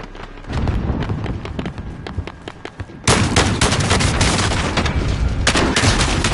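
Bursts of gunfire from Call of Duty Warzone, steady rapid shots that grow louder and denser partway through, with footsteps and game ambience behind.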